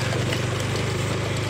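A rough, low old motorcycle engine idles steadily with a fast rattling pulse, close by and continuous, no voices; the rear shock absorber is worn out.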